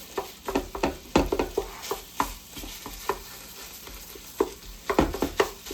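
A spatula breaks up meat frying in a pan for a cheesy breakfast casserole, giving irregular scraping stirs over a steady sizzle, close and fairly loud with no talk.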